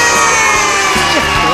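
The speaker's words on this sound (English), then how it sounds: "let's have a big round of applause for the people who made our show so extra special" Children in a studio audience at a Barney show cheering and whooping loudly throughout, a dense continuous crowd noise with excited shouts rising above it.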